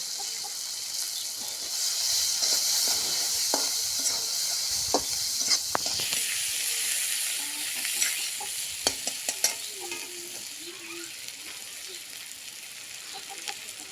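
Chopped onion and green chili fry in hot oil in a pan, giving a steady bright sizzle with the scrape of stirring and occasional clicks, while a rooster clucks faintly in the background.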